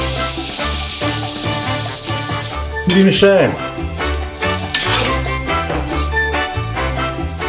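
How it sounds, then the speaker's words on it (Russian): Tomatoes frying in a hot kazan alongside celery, bay leaf and peppercorns for a fish marinade, a steady loud sizzle running throughout under music, with stirring and a few words spoken. "как шипит."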